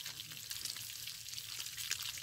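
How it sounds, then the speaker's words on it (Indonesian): Fish fries in a pan at a forest camp, a soft, steady sizzle with faint crackles, quiet and close, heard alone. "ini masak ikan goreng"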